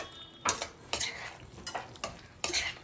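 Boiled baby potatoes go into a pan of curry base thickened with gram flour, followed by several sharp scraping stirs of a spoon against the pan at irregular intervals over a faint sizzle.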